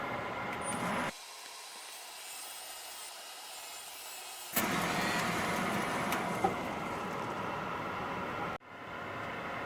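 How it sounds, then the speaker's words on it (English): A Dremel rotary tool deburrs fresh cuts on a stock air-cooled VW rocker shaft, a steady high-pitched grinding whine that drops out, returns louder and cuts off again near the end. "I'm going to use a Dremel and quickly deburr"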